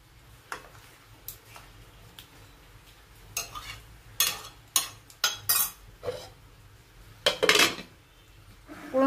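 A metal lid settles onto a pan of cooking semolina with a run of sharp clanks and rattles, fairly close, after a quieter stretch of faint kitchen noise.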